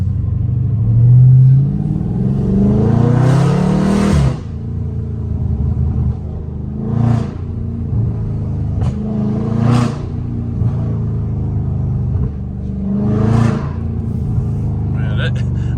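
A loud Dodge Scat Pack exhaust rumbles and revs in a neighborhood, a steady deep drone with several sharp rev bursts and burbles, while people talk excitedly over it.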